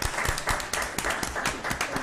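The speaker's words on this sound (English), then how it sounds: "Let's give her a round of applause." Audience clapping at a Jackson Public Schools board meeting, moderately loud, with distinct individual claps standing out against a steady patter from the room.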